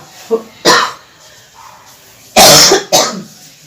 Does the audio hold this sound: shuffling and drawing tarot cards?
no